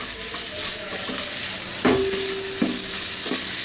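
Thai vegetable fried rice with Maggi and soy sauce tossed in a restaurant wok, a steady loud sizzle under a few sharp spatula clanks against the metal, with no speech.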